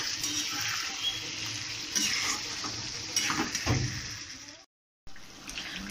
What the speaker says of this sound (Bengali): তো প্রায় 15 মিনিট ধরে আমি চিকেনটাকে কষালাম।